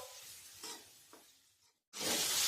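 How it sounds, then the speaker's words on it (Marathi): Chopped tomato sautéing in a pan over medium gas, a soft sizzle with light stirring scrapes, a brief pause, then a louder burst of frying. "आता आपल्याला टोमॅटो छान परतून घ्यायचा आहे आपण ही सर्व प्रोसेस मीडियम गॅसवर करत आहोत"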